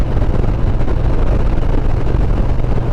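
Harley-Davidson 114 engine with no modifications, revving in a loud, steady low rumble that holds for about three seconds close to the microphone, with some wind noise.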